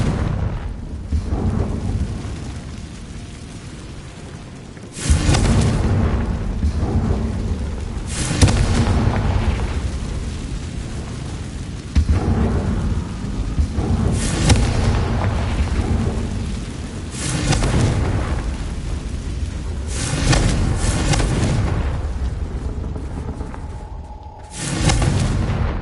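Fiery Confringo blasting spell from the Hogwarts Legacy video game, heard as several loud booming bursts spaced a few seconds apart, each with a rumbling tail, over a low ambient game bed.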